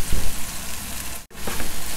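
Chopped vegetables, including eggplant, fry with chicken in a pan for fried rice, giving a steady, dense, loud sizzle that continues throughout with only a very brief break near the end.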